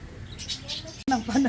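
Pet birds, including pigeons, kept at a home; soft scattered chirps in the first second, then a voice speaking close by.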